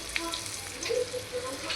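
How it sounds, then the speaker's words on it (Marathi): Bitter gourd dropping into hot oil in a pan, giving a steady, soft sizzle and light crackle close by with no talking. "आणि आता तेल गरम झालंय, तर आता मी त्याच्यामध्ये कारले टाकून घेते."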